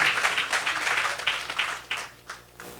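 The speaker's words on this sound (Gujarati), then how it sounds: "એક વખત તાળીઓથી વધારીએ." An audience at a Saturday religious sabha gathering applauds, a dense, fairly loud burst of clapping that tapers off into a few scattered claps near the end.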